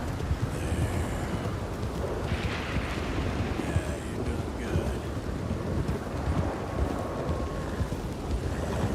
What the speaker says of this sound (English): I've been in very stormy weather, and this is very much how it sounds like.